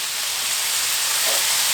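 A steak sizzles on a Blackstone griddle just after being flipped, a loud, close, continuous hiss with no break and no voices.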